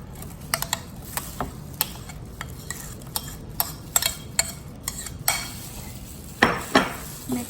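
A spoon clinks and scrapes repeatedly against a bowl while banana cake batter is mixed, producing irregular close-up taps and rattles with a couple of louder scrapes near the end.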